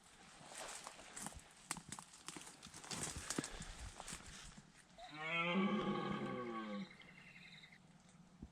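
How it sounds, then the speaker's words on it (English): A rutting red deer stag lets out one long, deep, guttural roar lasting about two seconds, fairly close, after soft rustling footsteps through rough undergrowth on a hillside. "That was a proper roar."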